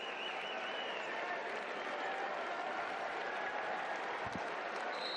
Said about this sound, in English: gone to the bench to some scattered applause